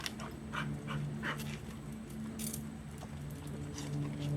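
A dog whimpers softly in thin, high whines over quiet panting, with faint jingling and rustling nearby.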